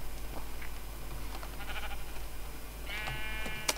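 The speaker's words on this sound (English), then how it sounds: "Yeah, I got baby sheep!" Baby sheep in the Minecraft video game bleat twice, a short wavering bleat midway and a longer, stronger harmonic bleat near the end, over a steady low game hum.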